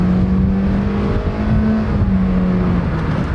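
Honda SUV with a CVT pulling away from a stop, a steady droning engine note holding one pitch as it accelerates, close and continuous with no gear shifts.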